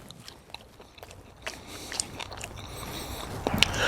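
Crunchy fried catfish, Cracker Barrel style, bitten and chewed close up: a few soft crisp crunches and chewing sounds, with a sharper bite near the end. The sound is fairly quiet and there is no talk.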